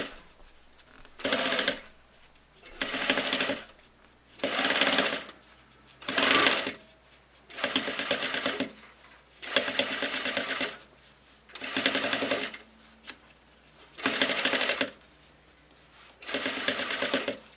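Sewing machine fitted with a skinny foot stitching an invisible zipper beside welt cord, nine short loud bursts of rapid stitching separated by brief pauses, close and alone.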